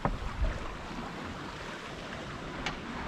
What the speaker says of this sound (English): lovely little wake sound through the water